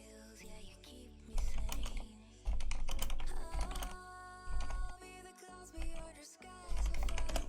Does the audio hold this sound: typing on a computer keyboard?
yes